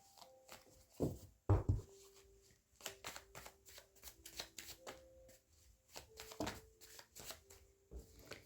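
Tarot cards being shuffled by hand in quick, papery bursts, with a couple of louder riffles near the start and then softer repeated shuffling and flicking, close up and with no voice over it.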